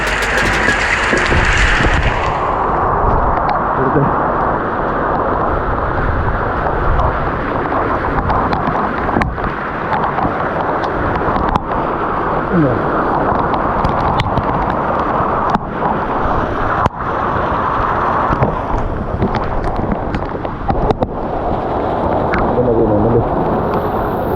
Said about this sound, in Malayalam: നല്ല കാറ്റുണ്ട് കേട്ടോ.